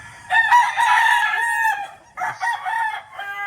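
A rooster crows loudly and close at a chicken farm in the early morning after rain, a long drawn-out call followed by a shorter second crow after a brief pause.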